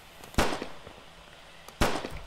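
Two sharp gunshots in a video game, roughly a second and a half apart, each a crisp crack with a short decaying tail, moderately faint and alone.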